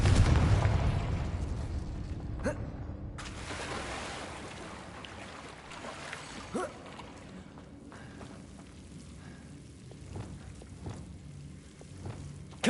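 Booming explosive blasts from the Confringo spell in the video game Hogwarts Legacy, with a loud rumbling burst at the start and then sharper, scattered impacts and crackling debris over a low, continuous rush.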